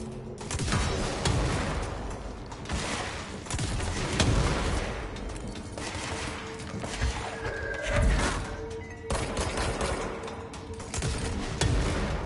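A new weapon firing in the game Control, bursts of rapid crackling shots and heavy impacts repeating through dense, noisy combat, loud and close, with mechanical clanks and debris between the volleys.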